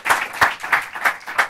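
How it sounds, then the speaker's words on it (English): Applause from a conference audience welcoming a speaker at a new media and American politics event, heard as short rhythmic bursts of clapping close by. "So please give a warm round of applause"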